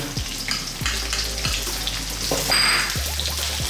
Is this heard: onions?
yes